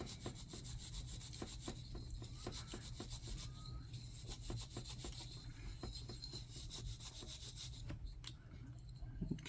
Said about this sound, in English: Wipe that all off, get that dust and grime off of it.